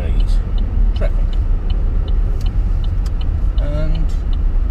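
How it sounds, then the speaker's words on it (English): A car drives into a car park near the small fishing village of Collieston on the North Sea coast. A steady, loud low rumble of engine and road noise runs throughout, with a few faint higher sounds on top. "Here we are again, going to enter that car park to pick Michelle up"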